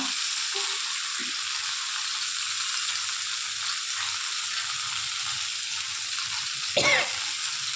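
Steady, hissing sizzle of grated ginger frying in a pan, continuous throughout, with a brief clatter near the end.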